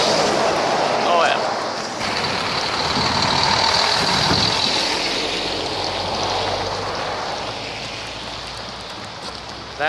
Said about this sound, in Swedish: Kommer en till lastbil här framme.